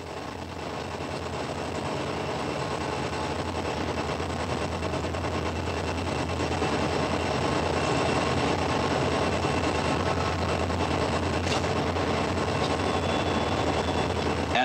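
A heavy Southern Railway freight train descends the steep Saluda Grade mountain line near Melrose in 1984, giving a steady, loud rumbling engine and wheel drone that holds throughout with no pauses.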